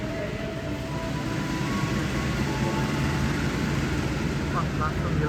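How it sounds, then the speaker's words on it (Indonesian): The Pasundan train pulls out of Lempuyangan station, a broad steady rumble of wheels and engine filling the scene at even loudness, with faint voices mixed underneath. "Kereta api Pasundan berangkat dari stasiun Lempuyangan pukul 9:57 terlambat 2 menit."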